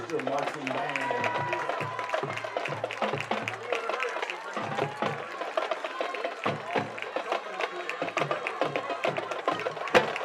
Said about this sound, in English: Another big round of applause for the high school marching band.